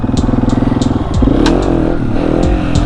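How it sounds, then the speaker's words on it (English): A 701 motorcycle on a first-gear wheelie attempt, its engine chugging at low revs before revving up into a loud, close, rising roar. "I guess we're gonna try to get some first gear pops."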